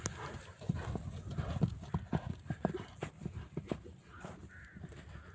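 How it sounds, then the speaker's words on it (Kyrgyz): A lively young horse in Bishkek clops its hooves in a quick, uneven rhythm at close range, with crows cawing now and then in the background. "Ойнок болгон ат экен"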